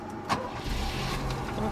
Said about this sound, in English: So we start the car